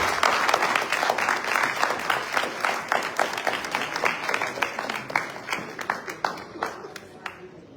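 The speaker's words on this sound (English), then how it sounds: "Can we all give a big hand of applause for our special guest?" An audience at a welcome program at the Executive Mansion claps steadily for several seconds for a special guest, the applause thinning out toward the end, with scattered voices mixed in.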